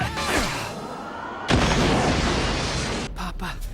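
A hand grenade explodes in the anime Heat Guy J, a loud blast amid a dense, roaring wash of noise that swells and then cuts off abruptly.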